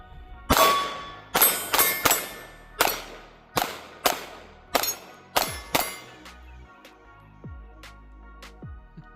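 A Smith & Wesson Bodyguard 2.0 .380 pistol fired at targets about 10 yards away, with around ten sharp shots at an uneven pace, each followed by a metallic clang of steel targets being hit.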